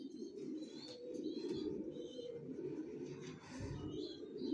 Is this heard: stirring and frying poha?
no